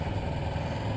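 A Kawasaki Ninja 300 motorcycle engine hums steadily with a low, even drone and a faint whine on top, sustained and unbroken for a brief moment.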